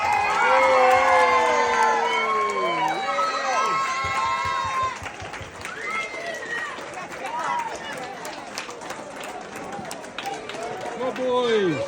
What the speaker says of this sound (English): I really do want a big cheer for these boys because they are on their last year at presentation